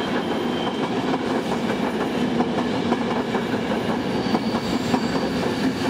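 A passenger train with an Austrian locomotive, a German coach and Italian coaches rolls past on the line out of Rosenheim, a loud, steady rumble with wheel clatter and rail noise throughout.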